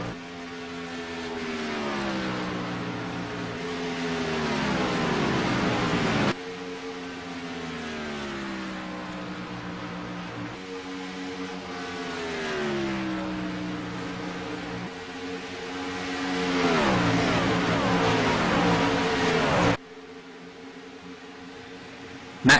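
Several racing trucks roar around an oval track late in a race, their engines rising and falling in pitch as they pass close by, loud and sustained with a brief drop near the end.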